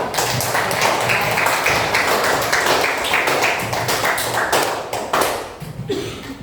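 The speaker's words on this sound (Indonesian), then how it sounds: "tepuk tangan dulu untuk kita semua" A classroom group claps hands together in a dense, sustained burst of applause lasting several seconds, loud and near, thinning out toward the end.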